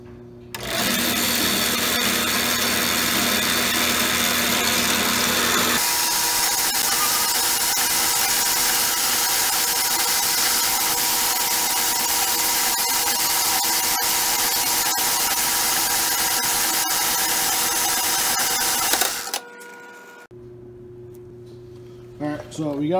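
A piece of metal being cut with a bandsaw in a fabrication shop, a loud steady grinding whine that runs for nearly twenty seconds and then stops, followed by quieter mechanical noise.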